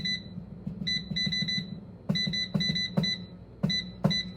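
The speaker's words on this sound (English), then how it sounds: "There's our timer." A kitchen cooking timer beeps in repeated bursts of short, bright tones, with a steady low hum running underneath throughout.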